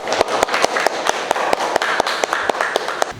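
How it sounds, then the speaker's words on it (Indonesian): A small audience claps at a school commemoration event after a song, with sharp, evenly spaced claps in a steady rhythm, close and clear. "Sekali lagi, beri tepuk tangan pada beliau."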